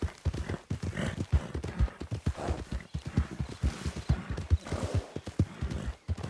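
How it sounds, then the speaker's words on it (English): Horse hooves clip-clop steadily in a video game, a close, loud, rhythmic trotting that runs the whole time, with a brief whinny mixed in. "My horse got stuck, so my horse is stuck there."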